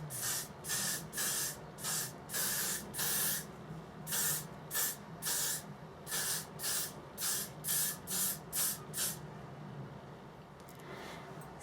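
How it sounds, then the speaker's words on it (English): A can of Got To Be Glued extreme hold hairspray fires about sixteen short, sharp hissing bursts in rapid uneven succession, close and loud, before falling quiet. "then just hairspray the crap out of it"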